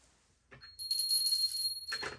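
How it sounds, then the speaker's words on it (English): A small bell rings with a bright, sustained shimmer that holds steady for over a second, then a second softer jingle follows, close and clear with no talking. "That's Angelica's bell"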